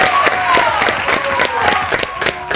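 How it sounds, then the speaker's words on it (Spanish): A television studio audience applauds and cheers loudly, the clapping bursts close and rhythmic under a tonal sung or spoken voice. "Yo creo que tendríamos que dar un aplauso"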